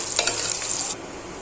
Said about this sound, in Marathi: इकडे हे कांदा फ्राय होतोय आणि तो चांगलाच फ्राय होऊन द्यायचा आहे